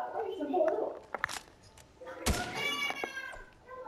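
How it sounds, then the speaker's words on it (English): A real cat meows faintly a couple of times amid video game thuds and sharp bangs, with quiet background noise. "I heard a meow. Oh, no, that's the cat."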